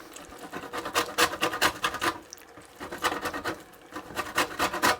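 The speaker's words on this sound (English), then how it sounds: "I'll quickly just zest one of the oranges." An orange is zested on the large side of a grater, producing close, rhythmic scraping strokes in two quick bursts with a short pause between, no speech.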